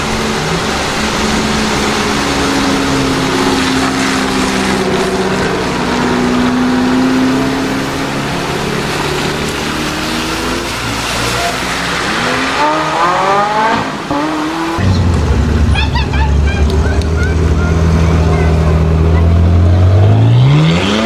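Porsche in Need for Speed Most Wanted, a loud engine repeatedly revving and climbing through gears with tire squeal, then a fresh hard acceleration with rising pitch after a sudden shift.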